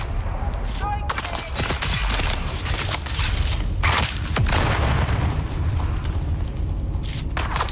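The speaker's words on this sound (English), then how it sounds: "Throwing grenade!" A thrown grenade blasts in Dune Awakening, a loud booming explosion with crackling gunfire around it in a hectic firefight; a voice talks over the din.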